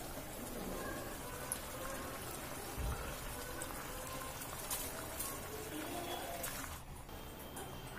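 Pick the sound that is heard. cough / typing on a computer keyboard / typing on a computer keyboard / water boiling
water boiling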